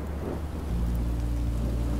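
Steady rain in the game Minecraft: Story Mode, a dense continuous hiss with a deep low rumble that swells slightly partway through, with no talking.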